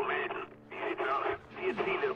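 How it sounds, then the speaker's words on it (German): Crackly, band-limited enemy radio chatter in the video game Spec Ops: The Line, a distorted voice coming through in bursts, filtered and tinny like a transmission over a comms channel. "Ich empfange eine Feindfrequenz."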